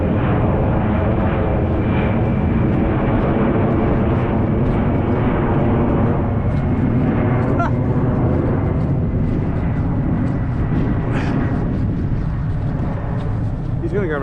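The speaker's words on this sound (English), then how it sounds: "thought I could hear a jet taking off" Continuous loud roar of a jet aircraft doing touch-and-go passes at an airport, a steady broadband rumble that holds throughout without pause.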